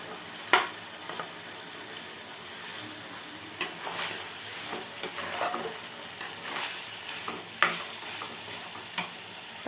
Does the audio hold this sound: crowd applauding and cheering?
no